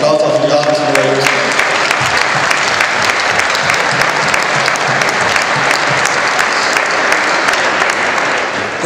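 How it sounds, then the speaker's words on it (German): A crowd applauds the Ravensburg junior ice hockey team at an awards ceremony, with loud, dense, sustained clapping that carries on evenly for several seconds. "Ein Applaus auf die Ravensburger Jungs"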